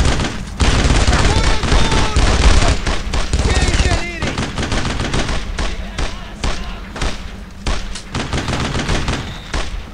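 Dense gunfire from the WWII shooter game Brothers in Arms: Road to Hill 30, with rapid machine-gun bursts and rifle shots nearly continuous for ten seconds, loud and close, with voices shouting over it.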